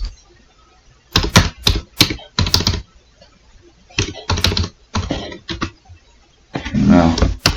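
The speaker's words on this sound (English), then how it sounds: "And my typing's not the best." Bursts of clattery typing on a computer keyboard, close and fairly loud, coming in several short runs separated by pauses, with a denser flurry of keystrokes near the end.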